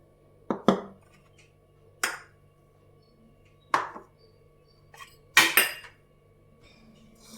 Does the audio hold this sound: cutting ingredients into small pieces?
yes